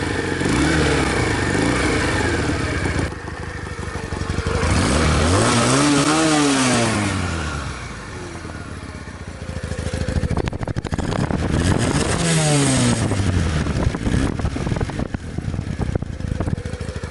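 A Romet RCR 125 motorcycle engine idles loudly close by, then is revved in several rising and falling sweeps with brief drops back to a steady idle.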